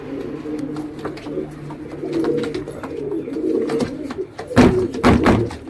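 Roller pigeons coo in soft, repeated low calls, fairly close, with some wing flutters and a thump or two toward the end.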